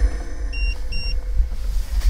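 A handheld temperature gun gives a few short, high electronic beeps at a steady interval over a low, rumbling background hum inside a parked car.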